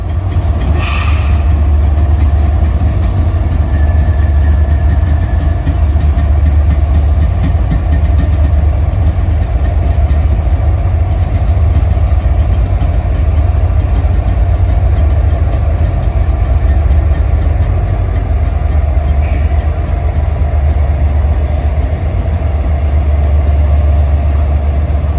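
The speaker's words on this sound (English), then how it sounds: "trains from all over the nation have to pass through this small segment of track" A freight train passes on track in Chattanooga, Tennessee, a loud, constant low rumble and engine drone lasting throughout, with faint metallic squeals from the wheels.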